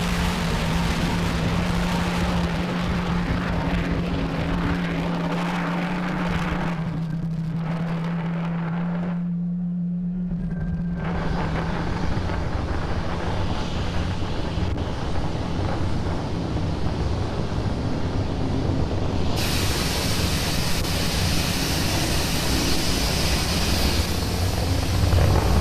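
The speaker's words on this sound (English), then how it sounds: "Falcon 9 has had a successful liftoff from pad 39A" A SpaceX Falcon 9 climbs away from pad 39A after liftoff, a loud, steady, broadband engine roar that fills the whole clip, briefly dipping in the middle before swelling back with a harsher hiss; no one speaks.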